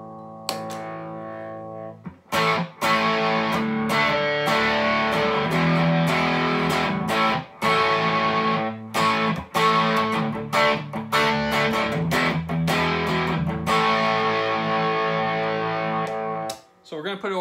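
Electric guitar played through an Outlaw Effects Dumbleweed overdrive pedal into a 60-watt B52 AT112 combo amp with a little reverb, giving sustained overdriven chords and riffs, loud and continuous with brief gaps and no talking.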